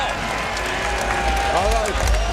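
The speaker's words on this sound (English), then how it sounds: "Oh, the crowd reaction says it all." Boxing arena crowd at the 2015 James DeGale versus Lucian Bute fight, a steady roar of cheering and clapping that swells slightly toward the end, with a commentator talking over it.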